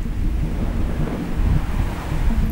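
Heavy rain and gusting wind during a tornado storm chase, a loud, continuous low roar with wind buffeting the microphone, heard close and without any talk.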